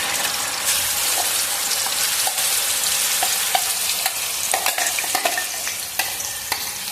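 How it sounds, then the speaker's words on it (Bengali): Homemade Schezwan sauce paste fries in hot white cooking oil, giving a dense, continuous close sizzle with occasional stirring clicks and spatters. "তেলটা একটু ভালো মতন গরম হয়ে এসছে। এরপর সসটা দেবে, আর যেটা বেটে নিয়েছে।"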